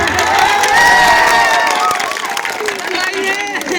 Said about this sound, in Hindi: तालियां बजाते हो गुरुजी